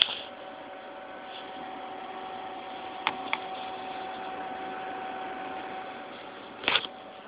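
A Delta AFC1212D-PWM 120mm case fan, mounted as a PC case intake, runs at 40% speed with a steady, faint broadband whoosh and a low tonal hum, broken by a couple of brief clicks and a short burst near the end.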